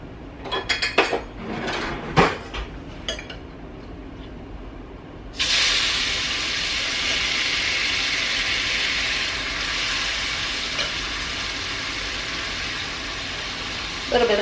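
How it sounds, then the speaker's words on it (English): Broth poured into a hot cooking pot of onions: a few utensil clanks against the pot, then a sudden loud sizzling hiss that holds steady for several seconds, close up. "So now I'm going to start adding some of this broth."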